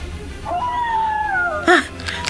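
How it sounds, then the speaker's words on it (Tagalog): A long, wavering howl glides downward for about a second, followed by a brief sharp yelp; moderately loud against a quiet background. "Ayoko nang marinig ang mga alulong"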